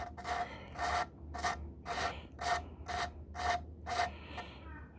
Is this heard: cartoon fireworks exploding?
no